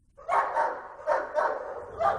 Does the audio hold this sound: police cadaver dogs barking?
yes